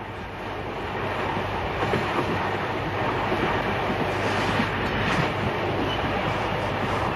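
The Ghan train rumbles along a narrow gauge railway line between Port Augusta and Marree with a continuous roar and rhythmic wheel clatter, steady and fairly loud throughout.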